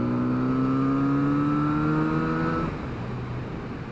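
A Kawasaki Z900RS four-cylinder motorcycle engine accelerates hard, its steady rising whine climbing in pitch through one gear before a brief shift drop, loud and close, with no talk.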